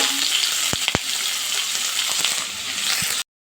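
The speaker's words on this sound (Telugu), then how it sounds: "ఇప్పుడు టొమాటోస్ ఉన్నాయి కదా, వీటిని కొద్దిసేపు ఫ్రై చేసుకుందాం." Tomatoes fry in a pan, giving a steady close sizzle for about three seconds with a few sharp clinks, then the sound cuts to silence.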